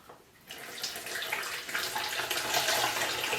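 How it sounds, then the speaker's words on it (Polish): Water poured from a jug into a bottle while making a winter bird waterer, a steady splashing pour that starts abruptly and builds slightly louder, close by with no talk. "Ostrożnie wlewamy wodę do butelki."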